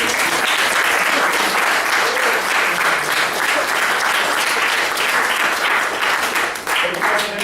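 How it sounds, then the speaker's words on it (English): An audience at a talk gives a strong round of applause, many hands clapping in a dense, continuous roar that stays loud and even to the end. "let's give her a round of applause"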